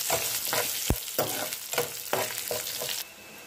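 Dry red chilies frying in hot oil for a side dish, a steady sizzle broken by repeated scraping strokes of a spoon in the pan and one sharp knock, with no talk.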